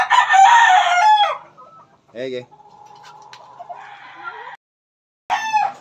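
A hen clucks and cackles up close in short bursts, with brief pauses between calls and a person saying a word in Filipino partway through.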